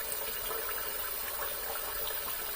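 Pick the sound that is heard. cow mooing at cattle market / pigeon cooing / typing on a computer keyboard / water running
water running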